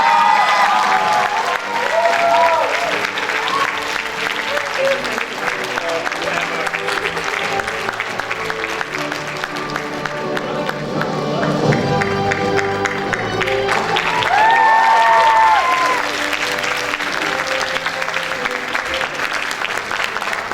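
Sustained applause from a crowd at a school honours day greets the graduates, steady and full for about twenty seconds, with a voice speaking over it and brief cheering swelling near the end.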